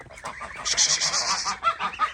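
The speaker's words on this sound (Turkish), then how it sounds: "Hindiler, kazlar, tavuklar. Hepsi buradalar." Geese honking loudly and close in a village farmyard among turkeys and chickens, a quick cluster of harsh overlapping calls.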